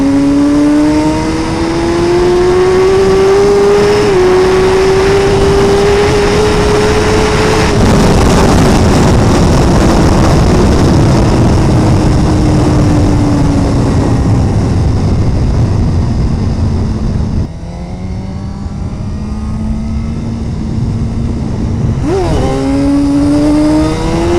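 2017 Suzuki GSX-R1000R sport motorcycle accelerating hard in third gear, a loud close engine note rising steadily in pitch with wind roar, easing off briefly, then climbing again through further revs.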